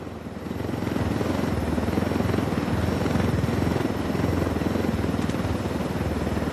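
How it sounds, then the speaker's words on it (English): A helicopter in Ghost Recon Wildlands, its rotor chopping in a fast, steady pulse with a loud engine drone that swells in early and stays close throughout. "I told Griffin I could figure out how to fly this thing. Qualify for planes. But not choppers?"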